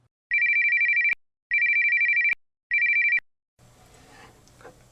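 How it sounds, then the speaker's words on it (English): A telephone rings three times in even electronic trills with short gaps, loud and close, followed by a quiet room. "Finally, the phone rang."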